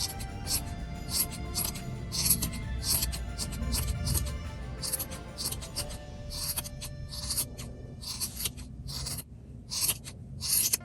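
Scissors trim around a handmade DIY gift decoration, giving a rapid, regular series of crisp snips that continues throughout, close up, with a voice faintly in the background.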